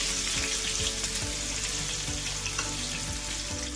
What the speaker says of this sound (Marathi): मिरची पण टाकून घ्यायची, हिरवी मिरची